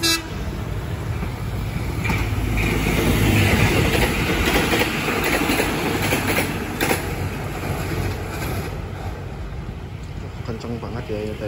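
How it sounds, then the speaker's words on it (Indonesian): The YIA Express airport train rushes past close by at Wates station, a loud continuous roar of wheels and rumbling with rattling clatter, steady for the whole stretch. "Kenceng banget ya yang tadi, kereta api YIA Express."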